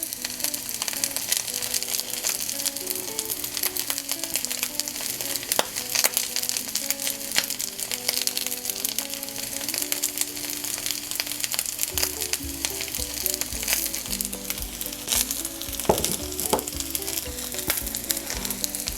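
Yaki onigiri rice balls fry with butter in a pan, a steady close sizzle running throughout with occasional scraping and clinks of a spatula, and no talking.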